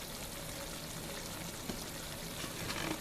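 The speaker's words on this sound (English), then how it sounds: "right now we're just waiting for it to do its frying part" Pork skin frying into homemade cracklins, a steady dense sizzle and bubbling of hot fat that holds even throughout, with a few faint pops near the end.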